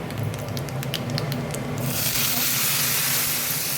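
A hot cumin tempering is poured into a cauliflower bhaji seasoned with garam masala. After a quiet stretch with faint clinks, a loud, close, steady sizzle bursts out and keeps hissing to the end.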